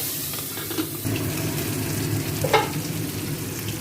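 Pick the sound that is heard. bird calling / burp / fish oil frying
fish oil frying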